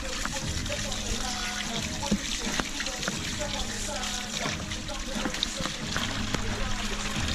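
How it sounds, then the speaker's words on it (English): Water pours steadily into a bucket during crappie fish cleaning, a continuous splashing trickle with small clinks and knocks, close and moderately loud throughout with no talk. "Put water back in my bucket."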